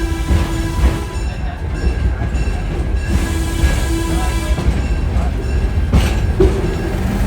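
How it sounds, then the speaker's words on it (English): A passenger train rolls along the historic railroad at Greenfield Village in Dearborn, Michigan, with a loud, steady rumble and clatter of wheels on rails and a few faint squeals, heard from on board. "I'll be quiet now so you can experience riding the rails as you would have in the late 1800s and early 1900s."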